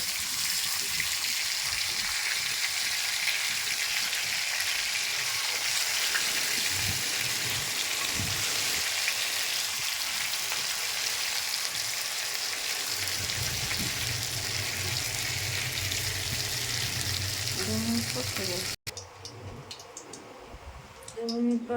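Pieces of rohu fish frying in hot oil on a stove make a steady loud sizzle and crackle that runs for a long stretch, then cuts off, leaving quieter clinks and kitchen noise.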